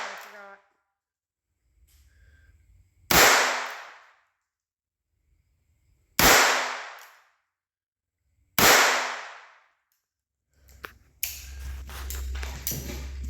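Three sharp, loud gunshots from Walther .22 pistols crack out a few seconds apart, each with a brief decaying tail, separated by near silence and followed by faint handling noise and rustle.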